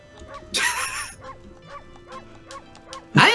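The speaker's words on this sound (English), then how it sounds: "I'm talking to a dog." A dog in the video game Okami barks and yips in a quick series of short, close, fairly loud calls, opening and closing with a louder bark, and no one talks.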